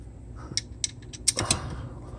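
Short metallic clicks and ratcheting taps, a few spaced clicks then a quicker cluster, close and moderately loud, from a wrench snugging the lubed caliper bolts on a 2006-2014 Chevy Impala or Monte Carlo front brake.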